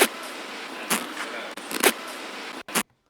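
A designed sound effect built from a bag zipper, heard as a dense processed whoosh with several sharp bursts and a clean cutoff near the end.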